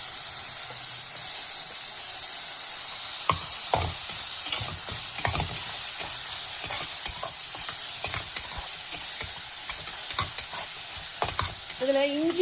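Tomatoes fry in ghee in a pan for Punjabi-style dhal tadka, a steady close sizzle running throughout with repeated scraping stirs and clinks of the spoon against the pan, no voices.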